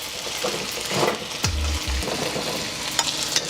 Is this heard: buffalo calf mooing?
no